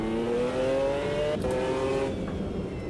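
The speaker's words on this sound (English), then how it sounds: "So this is a big engine, a V12." A V12 GT1 race car engine in the racing game Automobilista 2 holds a high revving tone, then drops sharply as it shifts gear and climbs again, loud and up close with no voices.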